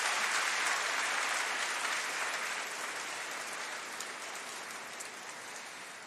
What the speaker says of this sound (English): give a round of applause to Jason on 50 years